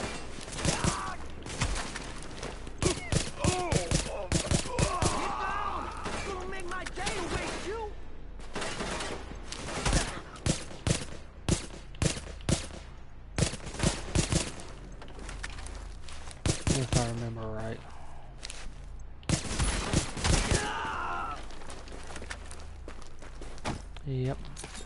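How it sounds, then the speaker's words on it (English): Light machine gun fire crackles in Tom Clancy's The Division, with sharp shots in rapid clustered bursts separated by short pauses, heavy and close, mixed with speech and movement noises. "light machine gun."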